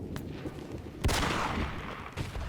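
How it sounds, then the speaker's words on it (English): Distant cannon artillery fire in the war game Between Empires, one sharp broadband boom near the middle rising out of a steady battlefield din, with a fainter shot near the end. "that cannon over there is definitely shooting at me"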